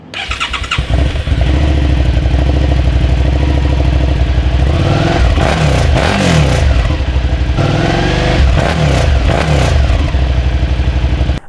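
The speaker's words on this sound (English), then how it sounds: "let me get a quick sound check for you guys of that wonderful V-twin exhaust." A Suzuki SV650 V-twin motorcycle revs loud and close, its deep lumpy exhaust swelling through repeated throttle blips from idle, with two clear rev sweeps and no talking.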